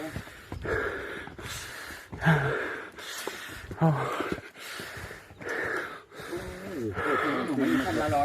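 A hiker on the climb up Khao Wong Phra Chan in Thailand breathes hard, with repeated heavy gasping pants in uneven bursts, close and loud, mixed with voices talking around.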